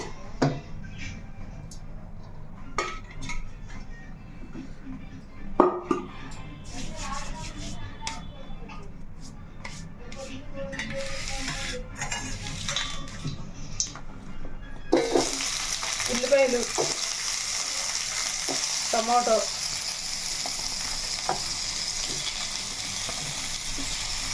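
Oil heating in a pan for egg masala made with boiled eggs, a steady frying sizzle with scattered clinks and taps, building louder in the second half while a person talks over it.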